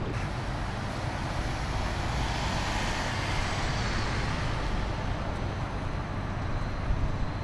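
City traffic, including trams, rumbles through Riga's cobbled old town in a constant, even roar of passing vehicles, with no talking.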